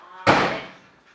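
A door bangs shut once, close and sharp, after a short quiet moment, then its ring fades away within about a second.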